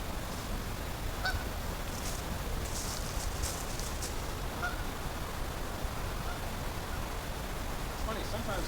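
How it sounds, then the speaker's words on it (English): Geese honk faintly in the distance along the Chattahoochee River in springtime nesting season, scattered calls over a steady hiss of wind or water, with voices talking nearby. "sometimes in the year, all the geese are up here."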